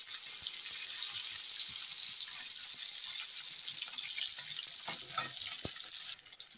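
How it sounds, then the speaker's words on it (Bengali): Rohu fish fries in hot oil, giving a continuous soft sizzle and crackle with a few light scrapes and clinks of a utensil, fairly quiet and without speech. "মাছটা দেখো দুই পাশে ভাজা হয়ে গেছে"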